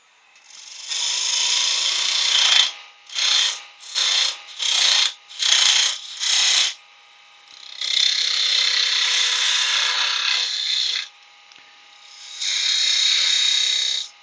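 A wood lathe turns a tenon on the end of a cocktail stick holder blank. The tool scrapes in a run of short, evenly spaced bursts, then in longer continuous passes, close and clear with no speech.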